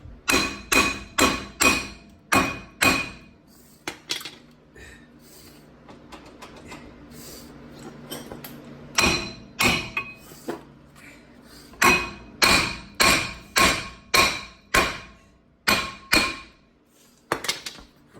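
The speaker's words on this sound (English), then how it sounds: "Use a little hammer, loosen it up." A small hammer strikes a brake rotor on a 1999–2013 Hyundai Elantra in quick bursts of sharp, ringing metal taps, with a pause in the middle before another rapid series of blows.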